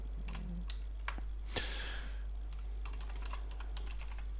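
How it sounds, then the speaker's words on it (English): Quiet, fast tapping of keys on a computer keyboard while an email address is entered, with one louder clack partway through over a steady low electrical hum; no talking. "So we just put your email in here."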